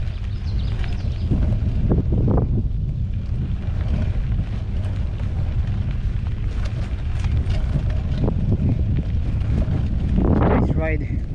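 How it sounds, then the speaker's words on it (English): Steady wind roars across the microphone on a mountain bike ride along a bushy trail by Lake Miramar, a constant broadband rush with a few brief louder gusts and bumps. "Nice ride, cool and windy."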